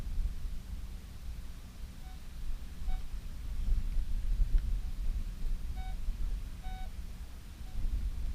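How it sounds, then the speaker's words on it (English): Metal detector on a beach in January signalling over a bobby pin, faint short beeps in pairs over steady wind and surf noise. "I do believe this is a bobby pin because I'm getting 2 beeps."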